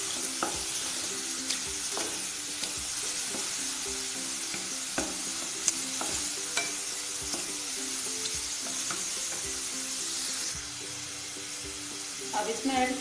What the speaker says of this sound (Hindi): अब ये मशरूम भी थोड़ा भून चुके हैं, इसमें हम डाल देंगे बारीक कटे हुए टमाटर और इसको अच्छे से मिला लेंगे।